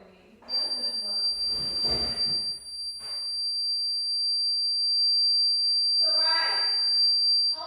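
A home alarm gives off a steady, piercing high-pitched tone that runs unbroken for several seconds, loud and close, while people talk over its start and end.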